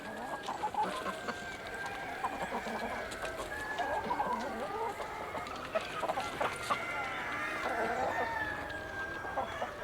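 Black Ogye chickens cluck and murmur steadily throughout, a busy free-range flock heard at a moderate distance with occasional louder calls rising above the chatter.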